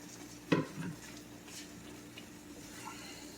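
A utensil clanks once against a pan while steak and eggs are mixed together, followed by a softer scrape and a faint, steady background hiss of cooking.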